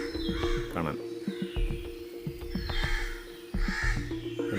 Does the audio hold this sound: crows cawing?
yes